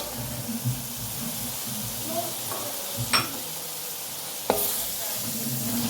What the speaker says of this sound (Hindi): और इस मसाले के अंदर 2 से 3 मिनट चिकन की अच्छे तरीके से भुनाई करूँगी